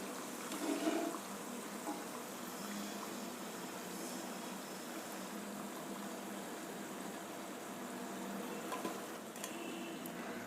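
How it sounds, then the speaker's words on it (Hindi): Aloo besan snack pieces fry in hot oil with a steady, even sizzle that runs throughout, a few brief louder crackles or stirring touches rising above it. "ऐसे ही बाकी के जो है हमारे पीसेस हैं उनको हम फ्राई कर लेते हैं"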